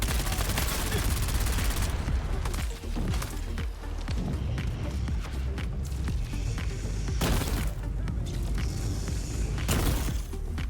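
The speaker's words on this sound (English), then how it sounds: "Disruptor Pistols" Dense, loud bursts of Disruptor pistol fire in Dune Awakening, rapid overlapping shots and impacts filling the whole stretch with brief lulls between volleys.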